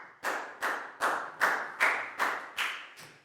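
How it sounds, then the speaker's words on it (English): Schoolchildren in a Year 4 classroom clap together for a pupil in a slow, steady unison rhythm of about eight evenly spaced claps, each ringing briefly in the room, with no talk. "Big round of applause for Pat"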